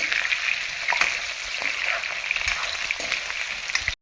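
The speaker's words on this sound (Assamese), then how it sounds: "এতিয়া আলুখিনি হাফ ফ্ৰাই কৰিছে" Potatoes being half-fried in a kadai for a local chicken dish give a steady, close sizzle with scattered crackles and soft stirring scrapes across the whole stretch.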